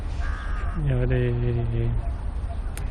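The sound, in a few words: birds calling in a park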